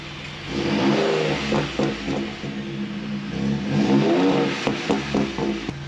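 A pickup truck engine revs up and down several times through an aftermarket exhaust, a deep throaty rumble with pops and climbing pitch, close by and loud.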